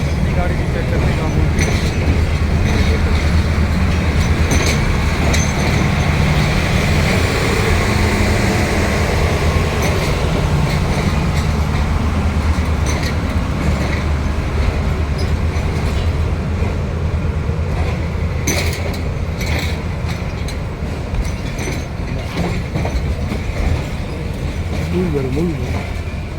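Jaffar Express passenger train, a long-route service between Karachi and Sialkot via Lahore, running with a steady, loud rumble and rattle of rail cars throughout, voices talking over it.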